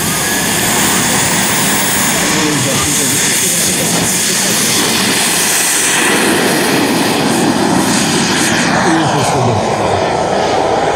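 Czech-built L-39 Albatros jet flying over a model aircraft picnic airshow, a loud continuous engine roar sweeping past with broad wind-like rush, a commentator talking over the public address throughout.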